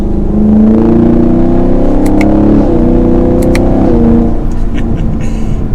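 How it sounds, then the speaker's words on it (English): Chevrolet Camaro 2SS 1LE V8 exhaust in track mode, heard from inside as the engine revs up and holds, dips, then climbs again in a loud continuous drone. "put us into the manual shifting mode and bump us down into track. The exhaust gets much louder."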